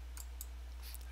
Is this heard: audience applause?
no